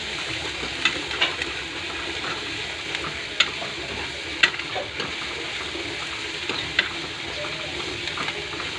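Green chillies, curry leaves and coriander fry in a pan for an evening snack, giving a steady close sizzle with occasional sharp clicks and scrapes of stirring.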